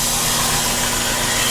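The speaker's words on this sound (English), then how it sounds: "I'll put it on the belt sander, and I'll just kind of smooth those out a little bit" Belt sander smoothing the cut ends of wooden shelf boards, a loud continuous abrasive whir with steady grinding friction, close and unbroken throughout, no voices.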